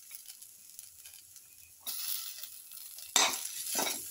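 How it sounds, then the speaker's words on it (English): Ginger hits a hot pan of sautéing ingredients for a brindleberry fish stew, giving two sudden bursts of loud sizzling over a quieter frying hiss, with faint utensil stirring. "Keep on sauteing. Now put in the ginger"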